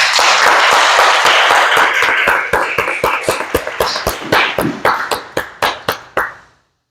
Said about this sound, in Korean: 세일을 행하신 하나님께 영광의 박수를 드리겠습니다